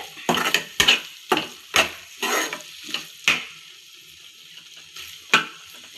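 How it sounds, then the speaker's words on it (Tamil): Egg fried rice is stirred in a hot pan, close by. A spatula scrapes in sharp, distinct strokes about every half second to second over a soft background sizzle. "நல்லா ஒரு வாட்டி கிளறி விட்டுட்டு"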